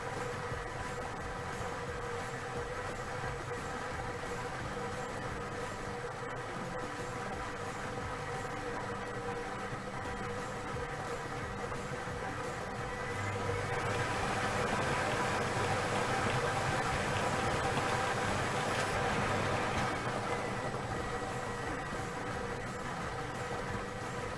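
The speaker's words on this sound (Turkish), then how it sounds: "Makinemiz el değmeden hava akımıyla toplarını karıştırmaya başladı." A lottery draw machine churns its balls with forced air, a steady whooshing roar that swells louder midway then settles back, continuous and without voices.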